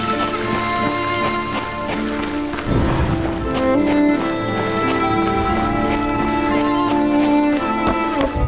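A horse in Darksiders 2 clops along, its steady hoofbeats running under a loud tonal music score, with sharp percussive hits near the middle.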